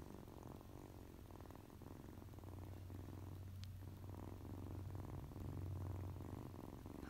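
Soft, steady kitten purring rumbles close by, a low continuous vibration with gentle rhythmic pulses and no talking.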